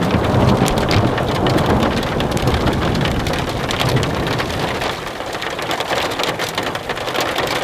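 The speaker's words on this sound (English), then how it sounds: "This hail is crazy." Heavy rain and hail drum steadily on a truck's metal roof while backcountry camping, a dense, close patter with bursts of sharper impacts throughout.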